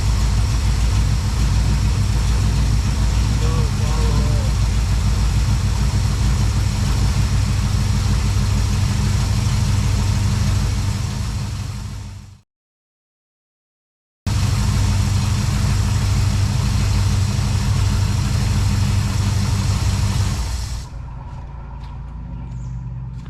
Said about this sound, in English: Well, it's still getting way too much fuel at idle.